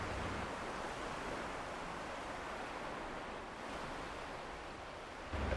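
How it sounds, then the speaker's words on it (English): Sea waves at the beach wash in a steady, continuous roar of surf with no voices, evenly loud throughout. "it's the sounds from the sea"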